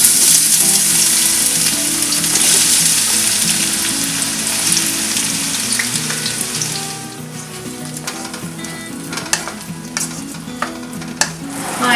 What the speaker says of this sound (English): Oil is hot. Now I'm gonna add chopped onion.